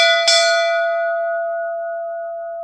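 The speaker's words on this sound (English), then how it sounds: "Let me ring this one, give you an idea of what a proper bell sounds like." A proper high-quality ship's bell struck once up close, a bright clang that rings on with a long, pure, slowly fading tone.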